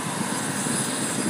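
A small propeller airplane taxiing to park at an airport gives a steady, continuous engine drone that stays fairly loud throughout, with no voices.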